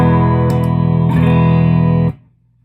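An electric guitar played through a Kingsley tube clean boost pedal rings out a sustained, bright chord with a couple of light pick attacks, loud and close, then cuts off into silence near the end.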